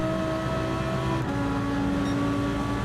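A race car in Gran Turismo 7 at the Nürburgring accelerating at full throttle, a steady engine drone with a gear change partway through, constant and fairly loud, and no talk.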